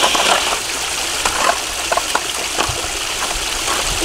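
Water gushing and splashing steadily on ice as a Bruder toy dump truck pushes debris into it, a continuous near rushing wash with a few faint clicks and no speech.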